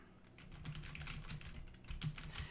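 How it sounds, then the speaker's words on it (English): Computer keyboard keys tapped during a live gaming stream, a quick irregular run of soft clicks and clacks close to the microphone, continuing throughout with no talking. "We'll just keep playing with the keys, I think."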